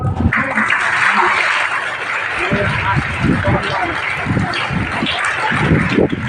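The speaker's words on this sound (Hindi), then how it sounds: "तो तालियों के स्वागत।" Students welcome a guest with applause at a school gathering in Mantha, Jalna, India. The clapping is broad, dense and steady throughout, fairly loud and close.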